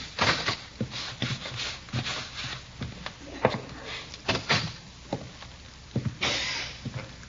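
A radio drama effect of a door being unlocked and opened, with a run of close rattling clicks, knocks and thumps of the lock and handle, then a brief swish near the end.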